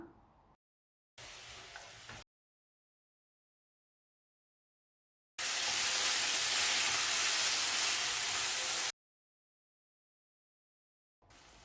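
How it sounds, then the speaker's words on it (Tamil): Loud sizzling and hissing of fenugreek greens frying in a hot pan comes in two separate bursts, a short one and then a longer, stronger stretch. "கீரை சேர்த்து வதக்கணும் ஒரு நிமிஷம் நல்லா வதக்கி விடலாம்"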